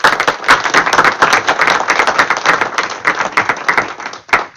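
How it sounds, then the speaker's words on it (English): Applause from a school board meeting audience, a moderate crowd clapping steadily with distinct individual claps throughout, loud and close, no talking. "is a round of applause for our hard work"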